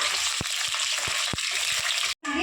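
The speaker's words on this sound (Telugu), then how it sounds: "చప్పిడి చేపలు ఫ్రై చేసుకుందాం" Unsalted dried fish frying in hot oil, a steady dense sizzle with a few soft stirring knocks, close and continuous until a brief cut near the end.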